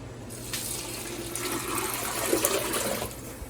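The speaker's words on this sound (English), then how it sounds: "we're going to start with a gallon of water" A gallon of water poured into a stock pot for vegetable butter bean soup, a steady close splashing rush that swells slightly and runs for a few seconds without speech.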